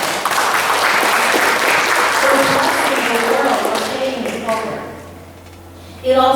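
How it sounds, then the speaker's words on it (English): A church congregation applauds during a Sunday service, steady clapping for about four seconds that tapers off as a speaker resumes talking. "Let's give ourselves a round of applause for that."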